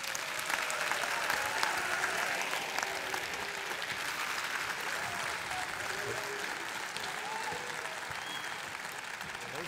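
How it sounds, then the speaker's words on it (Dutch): Sustained audience applause for a newly announced head coach at a jubilee-year closing event, dense and steady throughout, with some voices mixed into the clapping. "Maar het grootste applaus graag voor onze hoofdtrainer voor de aankomende 3 jaar, Frank Wormoed."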